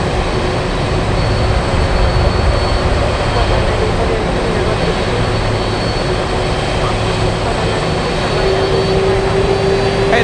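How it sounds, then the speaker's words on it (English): DHL cargo jet arriving at Anchorage from Shanghai, China, a steady broadband jet rumble holding throughout with a rising whine near the end, with a voice speaking over it at times. "This one flying in from Shanghai, China, operated by"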